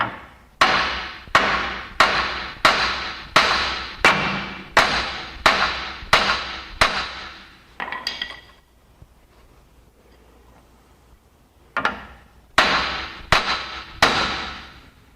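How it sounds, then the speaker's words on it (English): Sharp metal hammer blows strike a suspension part on a 1994 Chevrolet Suburban to separate it: a rapid run of about fourteen evenly spaced ringing hits, a pause of a few seconds, then another burst of five, all close and loud. "I'm going to go ahead and hit it right here with a hammer."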